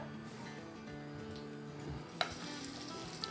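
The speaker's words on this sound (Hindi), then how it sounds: "अब इसमें हम डालेंगे तकरीबन 5 टेबलस्पून मक्खन" Butter sizzling in hot oil in a kadhai while making pav bhaji, a steady close frying hiss with a low hum beneath and one sharp clink partway through.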